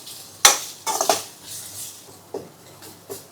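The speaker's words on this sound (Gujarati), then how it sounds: "ડુંગળીને આ રીતે હલાવશો ને એટલે એના લચ્છા છે ને એકદમ ખુલી જશે" Sliced onions being stirred with a spoon in a pan while shallow-frying for paneer butter masala, heard as a few sharp metallic scrapes and clinks spaced irregularly, fairly close and moderately quiet.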